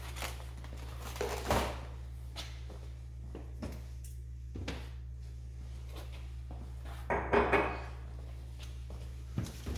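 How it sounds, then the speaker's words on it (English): Plastic drawers are pulled out of a GE Cafe refrigerator (model CYE23TSDCSS) that won't cool, giving scattered sliding clunks and rattles over a steady low hum, with no talking. "And I need to take these two drawers out."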